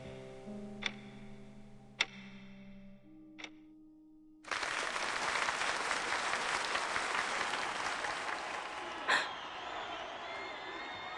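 In the video game Reverse: 1999, a few sharp isolated ticks over a low tone, then loud crowd applause bursts in and continues steadily to the end.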